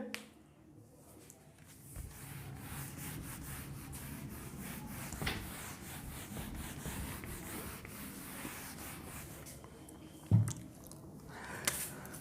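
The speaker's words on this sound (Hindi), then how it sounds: "मैं बोर्ड रब करूंगा" A teacher rubs a board clean during a Class XI differentiation lesson, a steady scraping, brushing wipe running near-continuously for about twelve seconds with one sharp knock near the end.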